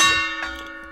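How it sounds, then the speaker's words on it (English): A struck gong rings out with a sharp attack and a sustained metallic, bell-like tone that slowly decays; a second fainter stroke follows, close and alone without talk. "I forgot the gong from earlier."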